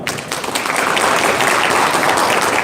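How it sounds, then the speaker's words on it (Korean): An audience at a gem-appraisal seminar on the first day of an exhibition bursts into loud, sustained applause, a dense wash of clapping that carries on evenly throughout. "뜨거운 박수로 맞아주시기 바랍니다"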